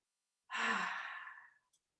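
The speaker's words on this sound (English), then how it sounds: "Inhale and exhale." A single long exhaled breath during a yoga stretch, a soft airy sigh lasting about a second, close and alone in otherwise quiet surroundings.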